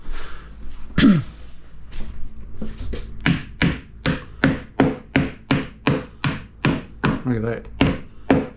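A hammer drives home bathroom resheeting work with a forceful hit early on, then a run of about fifteen evenly spaced, close, solid knocks in a steady rhythm.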